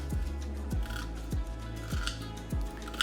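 A knife dices an onion on a cutting board for a chicken, potato and spinach casserole, giving a steady run of about five crisp, close chops spaced roughly half a second apart, with no talking.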